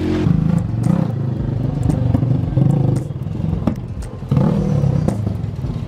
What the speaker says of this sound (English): Uncle Jim riding the Polaris.